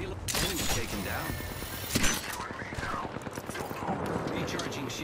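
Video game gunfire in a firefight, rapid bursts of automatic shots with one louder crack partway through, mixed with mechanical clatter and voices talking over it.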